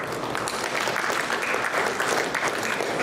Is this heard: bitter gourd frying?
no